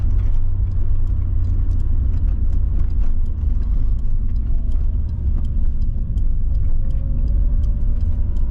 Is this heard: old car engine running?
yes